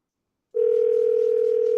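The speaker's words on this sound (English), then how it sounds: "his phone rings for a long time" Telephone ringback tone of an outgoing call waiting to be answered, a steady continuous tone that starts abruptly after a short silence and holds clearly and loudly to the end, with no talk.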